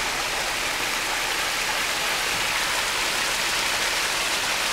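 An indoor waterfall inside a conservatory pours with a steady, dense hiss of falling water, constant and fairly close, with no voices.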